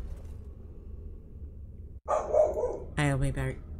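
A dog barks in the fantasy game Dragon Age: Origins: a low steady rumble first, then a harsh growling burst and a few close, loud, harmonic barks near the end.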